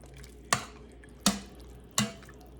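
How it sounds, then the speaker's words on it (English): Three sharp, evenly spaced spoon strikes against a pot while stirring keto minestrone soup, each a bright clack with a short ringing tail, set against a low, quiet background. "So, stirring all of this in."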